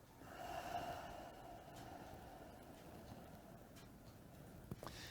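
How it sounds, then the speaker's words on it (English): A slow, steady breath pushed out through the nose during a gentle qigong exercise, a soft airy rush that swells early and then trails off into quiet room hiss. "you breathe out through the nose"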